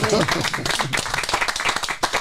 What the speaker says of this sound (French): je crois que ça s'applaudit, mesdames et messieurs